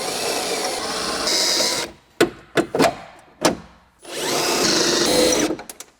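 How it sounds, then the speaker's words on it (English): Power drill whirring through rivets on a Mercedes E55 AMG window regulator in two sustained bursts, with sharp metallic clicks and clanks of loosened parts between them, close up. "now you gotta drill out the rivets and remove the regulator"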